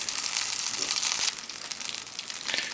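Backpacker potato cakes frying in a pan at a campsite, a loud, close, continuous sizzle and crackle of hot oil that swells and eases.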